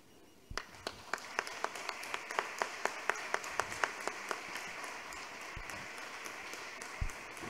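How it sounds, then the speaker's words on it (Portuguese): Applause in a city council chamber, a small group clapping in a slow, evenly spaced rhythm of distinct claps that thins out toward the end, faint and somewhat distant, with a few low thumps. "Pastora Miriam, receba o nosso aplauso, o nosso carinho"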